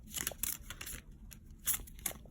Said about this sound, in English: These decks are already pre-shuffled, but I'm just shuffling for you guys